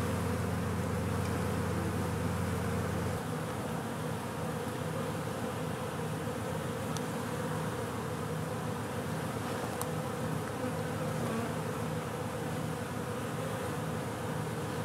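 A dense, steady buzz of many honey bees humming together close by on comb they are building, continuous and unbroken throughout.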